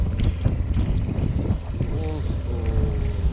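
Strong wind storm on Mount Fuji at the 5th station roars loudly and steadily into the microphone, with a voice speaking underneath the gusts.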